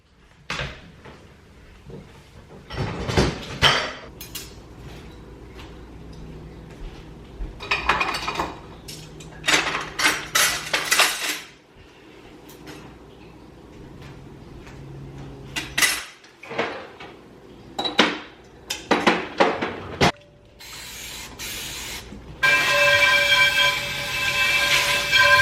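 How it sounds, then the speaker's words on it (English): Dishes, plates and cutlery clatter and clink in irregular bursts as a dishwasher is unloaded, with cupboard doors knocking in between and a louder metallic rattle at the end. "I'm gonna go ahead and unload the dishwasher right now"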